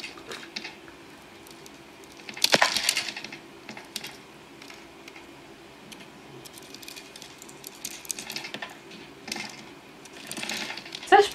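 Bar of soap being cut into small cubes, soft crisp slicing and crumbly ticks, faint and close with a louder cluster of cuts near the start, under quiet background sound.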